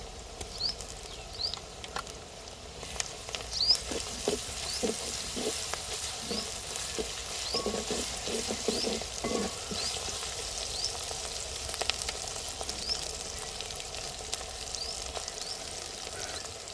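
Onion pieces frying in a pan, with a soft steady sizzle and crackle plus intermittent stirring scrapes and taps of a spoon, close by and moderately quiet, no talking.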